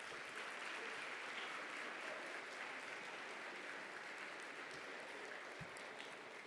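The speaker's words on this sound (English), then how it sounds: "Let's give another huge applause for all of our winners." Banquet audience at a 2019 ERN conference awards event applauds the winners, a steady, even wash of many hands clapping that holds at a constant level throughout, with no voices.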